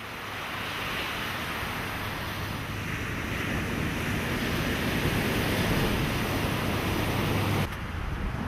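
Surf rolls onto Kie Beach, a long sandy beach on Maui, Hawaii, as a continuous broad wash of breaking waves mixed with wind rush that stops abruptly near the end.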